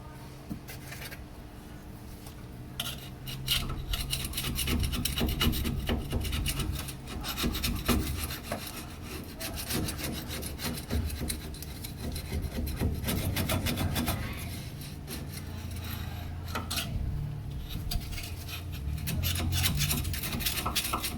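A rear differential's gasket surface is scrubbed with rags and brake cleaner, producing a continuous close, rasping rub in uneven back-and-forth strokes that runs throughout without speech.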